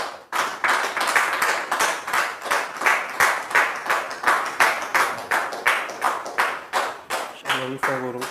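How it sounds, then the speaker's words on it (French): Steady rhythmic clapping from a church congregation, even beats continuing throughout, with a voice and a low tone entering near the end. "sous vos applaudissements"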